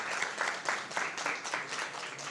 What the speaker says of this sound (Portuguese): Uma salva de palmas para o Fernando